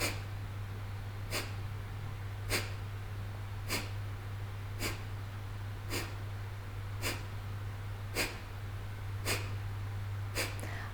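Kapalbhati pranayama breathing, a series of short, sharp nasal exhalations pushed out in an even rhythm about once every second, close and clear over a low steady hum, with no talking.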